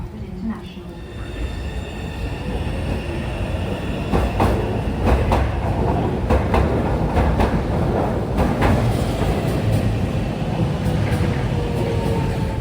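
A new DLR B23 light rail train runs at Canning Town, London, with steady rumble and repeated clacks under a muffled interior ambience; a voice speaks briefly.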